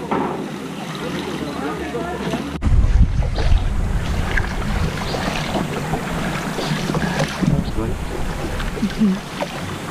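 A small boat travels along a tributary of the Mekong River, with its motor and water noise rising sharply after a few seconds, heavy wind buffeting the microphone and people talking throughout.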